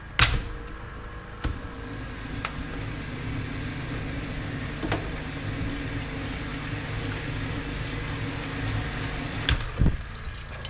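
A drain cleaning machine feeds its cable into a badly clogged drain, giving a loud, steady mechanical whir with a watery rushing texture. Occasional sharp knocks and clanks sound close by throughout.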